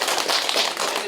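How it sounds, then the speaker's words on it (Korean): Audience applause at a county governor's village visit in Hongseong, South Korea: a dense, steady burst of many hands clapping close by, filling the short stretch without a break. "박수 한번 쳐주시기 바랍니다"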